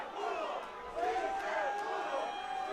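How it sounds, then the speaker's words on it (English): A lively crowd at an SSP 69 grappling match roars and cheers continuously, a dense mass of voices with shouts rising and falling, fairly loud and steady throughout. "We got a very lively crowd here trying to will their champion back"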